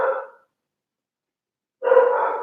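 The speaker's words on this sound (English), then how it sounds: "I'm hoping that that dog barking is not too distracting here." A dog barks close by in two short bursts separated by a quiet gap, with no talk over it, somewhere indoors or nearby during a quiet reading.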